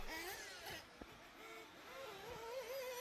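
A 1/8 scale nitro RC race car buzzes past the start-finish line at a racing championship, its high engine whine faint and distant, shifting in pitch as it passes, under outdoor crowd noise.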